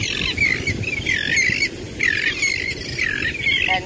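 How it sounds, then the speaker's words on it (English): Birds calling outdoors near the sea, repeated shrill squawking chirps in bursts over a rushing background of breeze and tide, fairly close and loud, with no talking. "And yes, the sound of the birds,"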